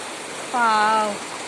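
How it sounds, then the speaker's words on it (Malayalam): A fast-flowing stream makes a constant, loud rushing hiss. A short voice sounds briefly over the water. "കണ്ടോ എന്ത് ശക്തിയിലാണ് വെള്ളം പോകുന്നതെന്നറിയോ?"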